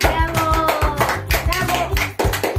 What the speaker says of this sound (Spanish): así que pido aplausos para ellos